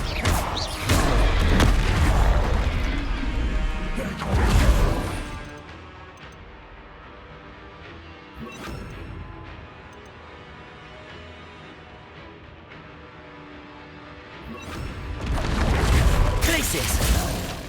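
Fiery Confringo spell blasts go off in the Hogwarts Legacy video game, heavy booming explosive bursts near the start and again near the end, with a voice speaking over the combat.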